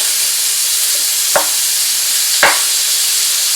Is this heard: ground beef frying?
yes